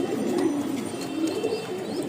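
Iceberg Damascene pigeons coo softly at a pigeon farm, a low, faint, continuous murmur beneath steady broadband background noise, with no talking.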